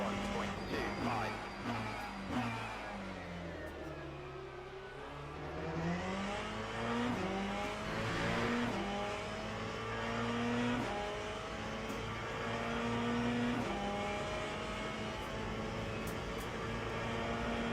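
Race car engine pulling through a turn, dropping in pitch on the lift, then revving up through rising gear sweeps, steady and fairly close, with a voice speaking faintly over it.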